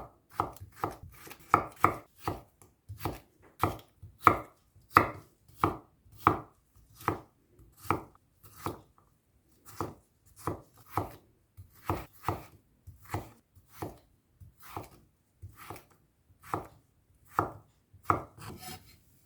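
Vegetables for sipo egg with shrimp, including carrot and chayote, chopped on a cutting board: about thirty crisp, evenly spaced knife knocks in a steady rhythm, close and clear, with a brief gap midway and no speech.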